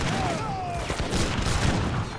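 Heavy cannons fire on Aztec units in an Age of Empires 3 Definitive Edition land battle, a loud, dense barrage of overlapping booms and crackling gunfire that rolls on continuously.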